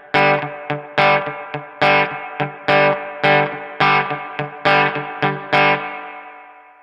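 Electric guitar played through a True Spring Reverb pedal with the dwell turned up, bright twangy picked notes and chords in a steady rhythm, each attack followed by a splashy spring-reverb tail, loud and alone.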